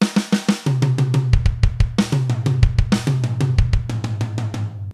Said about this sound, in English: So this complete fill at a slow tempo sounds something like this.